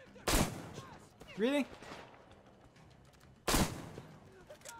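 Two sharp, loud gunshots about three seconds apart ring out in Metro Exodus, each with a short decaying tail, and a brief spoken word falls between them.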